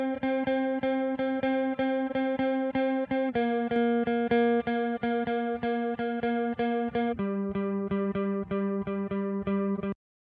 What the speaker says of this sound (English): that's giving us a nice chorus effect that makes that guitar just feel a little bit more interesting